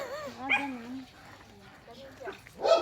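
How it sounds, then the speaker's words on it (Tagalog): Several dogs bark and yip nearby in short, uneven bursts while people talk over them. "Kasi ang daming aso dyan, baka makawala yan, kagating pa tayo."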